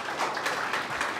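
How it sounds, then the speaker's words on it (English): Audience members at a talk on ancient wisdom and modern life clap in a short, moderately quiet burst of applause with no voices over it. "Let us give a big applause to Dr."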